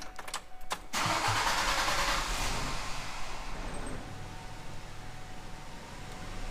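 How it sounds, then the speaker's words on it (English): A Ford Ranger truck with a 2.3 liter engine cranks briefly and catches, then settles into a steady, close idle that runs on without any voices. "And then we're going to start the truck."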